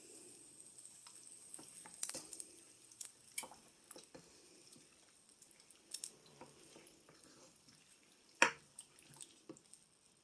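Ham and bean soup with chickpeas and celery simmering in a pot, giving soft irregular bubbling pops and faint drips at close range with a few sharper clicks, no talking.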